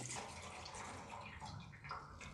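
Rust-removal liquid poured into a metal gas tank, a faint continuous splashing trickle like water running into a hollow vessel, steady for a couple of seconds.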